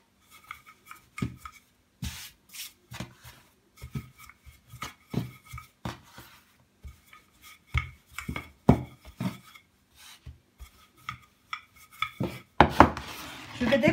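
A knife cuts balls of makadaze dough into quarters on a board, making a series of sharp, separate taps and scrapes in an otherwise quiet room, with a rustling shuffle near the end.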